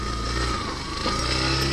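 A motorcycle built for off-road use rides a muddy trail on a rainy day between Tiaong and Tayabas, Quezon, its engine a steady close droning hum that holds throughout with no talk.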